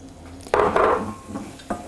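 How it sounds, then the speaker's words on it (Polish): Flour hits melted butter in a frying pan and is stirred with a utensil, a sudden sizzling scrape followed by a few lighter stirring knocks, close and moderately loud. "Gdy masło już się roztopiło, dodajemy mąkę"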